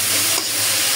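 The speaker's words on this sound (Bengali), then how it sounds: "মাছের পেঁয়াজটা আমি আলাদা ভাজা করতেছি।" Onions for a fish dish fry in a pan, giving a steady close sizzle and hiss with no break and no voices over it.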